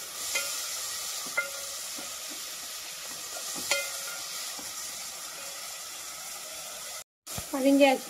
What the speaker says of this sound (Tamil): இப்போ வந்து 2 தக்காளி அரிஞ்சு வச்சது சேர்த்துக்கலாம். தக்காளி நல்லா வதங்கட்டும்.